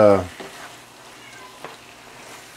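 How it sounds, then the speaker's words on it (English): A pet cat gives one short, clear meow right at the start, followed by a quiet room with faint background noise and a soft click. "oh, you hear my kitty, Tinkerbell?"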